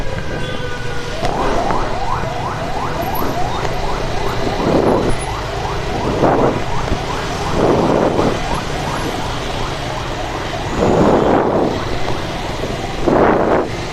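An ambulance siren wails, sweeping up and down repeatedly, loud and close, in congested traffic in Medan, with bursts of wind or traffic noise rushing past between the cycles.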